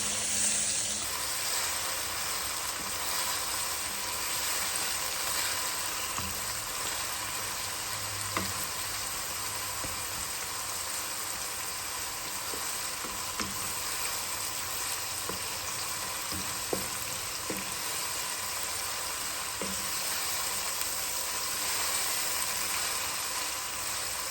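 Chopped onions fry in a pan with a steady, dense sizzle close up, broken by occasional light stirring taps, and no one speaking.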